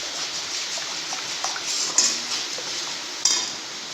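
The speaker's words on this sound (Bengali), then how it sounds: "এখন ক্যারামেলের মধ্যে অল্প অল্প লিকুইড দুধ দিয়ে দিচ্ছি।" Liquid milk is poured a little at a time into hot caramel while it is stirred, giving a steady hiss and sizzle with a couple of sharp metallic clinks of utensil against pan.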